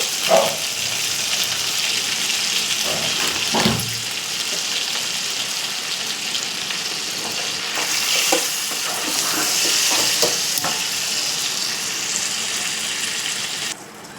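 Chicken legs fry in hot oil with chili powder added, a steady loud sizzle running throughout with intermittent scraping and stirring sounds, no talking.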